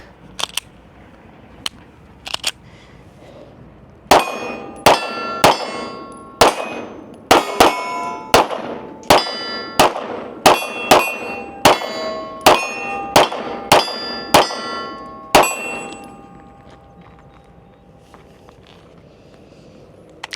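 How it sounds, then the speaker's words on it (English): Shots from a Canik Mete MC9 pistol strike steel targets at a range, heard as sharp metallic clangs, first a few spaced hits and then a quick steady string of about fifteen pings ringing out before silence. "Let me show y'all where I'm shooting. All right, these are the steels I'm shooting at."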